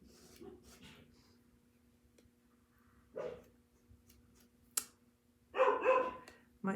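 A dog barks indoors at someone pulling up outside, a few scattered barks that come faintly at first and then louder, with a sharp short bark near the end.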